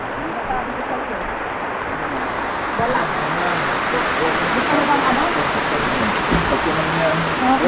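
Heavy rain pours steadily in a dense, hissing wash in the mountain town of Banaue, Philippines, with faint voices murmuring underneath.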